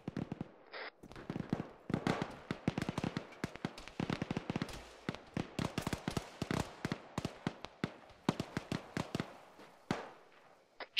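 Gunshots crack out in irregular bursts and single sharp reports, some close and loud and others more distant, spread through a long stretch of firefight.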